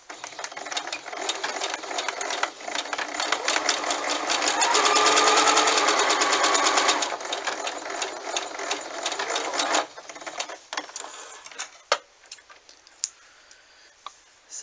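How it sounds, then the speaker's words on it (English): A sewing machine runs steadily with a fast rhythmic whirr and clicking while sewing a French seam along a folded fabric edge, speeding up in the middle, then stopping with a few scattered clicks. "So I'm going to sew here."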